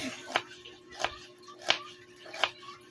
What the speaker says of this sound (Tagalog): kasalukuyan na nga pong inimay niya yung yung sibuyas